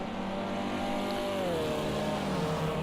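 A Formula C race car engine in a sim racing game drones loudly and continuously at high revs, with the pitch sliding briefly as it shifts or eases through a corner.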